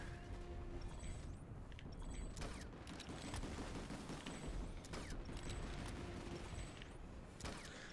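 Gunfire in the video game Planetside 2, a dense, steady barrage of distant shots and mechanical clatter from a large battle, fairly faint and continuous throughout.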